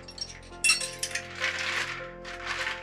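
Three small metal Allen keys clink against each other while being handled during the unboxing of a folding e-bike, giving a run of light, bright metallic taps and jingles at close range with no speech.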